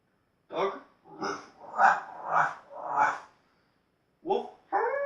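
Someone imitates a dog with their voice, giving five bark-like bursts in a steady rhythm, a pause, then two more quick barks, close and clear.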